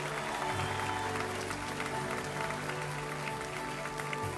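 Concert audience applauding a bassist's introduction at a show, a steady dense wash of clapping sustained throughout, with the band's low sustained tones playing underneath.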